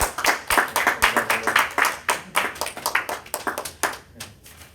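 A church congregation claps together for a family during a Sunday service, a loud, fast patter of many hands that rises and fades slightly over a few seconds, with no talking over it.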